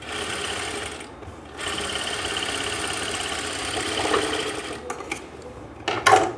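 A sewing machine stitches an Afghani salwar, giving off a steady close-up mechanical whir that runs continuously, dips briefly twice, and picks up again with a few sharper knocks near the end.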